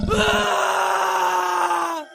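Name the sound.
man screaming in fright, horror story sound effect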